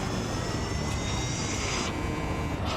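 A fighter launches from a ship in the space game Elite Dangerous, a loud, steady jet-like roar that fills the whole moment with faint whooshing shifts in tone.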